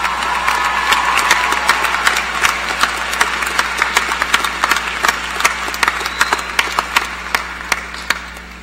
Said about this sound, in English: a well-deserved round of applause of appreciation for the faculty who supported you through your educational endeavors